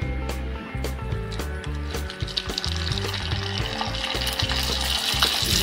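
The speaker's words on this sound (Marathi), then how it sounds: "आता आपण पापड तळून बघणार आहोत।" A semolina papad fries in hot oil, a steady close sizzle and bubbling that keeps up throughout, with a low rhythmic hum underneath.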